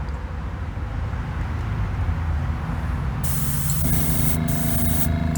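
A steady, loud hiss of a spray gun spraying thinned base-coat paint runs throughout, its tone shifting brighter partway through as the spraying continues.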